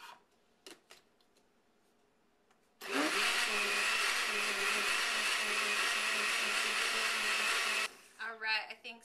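A blender whirs loudly for about five seconds, blending spinach and strawberries, with quiet rustling before it starts and a voice right after it stops.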